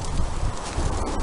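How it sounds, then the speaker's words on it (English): Wind gusts against the microphone beside the escape hatch of an abandoned Cold War bunker in Medway, producing a brief, rough, rumbling roar close up, with no talking. "Don't know if you can hear me because of the wind, but Luke's up there taking photos"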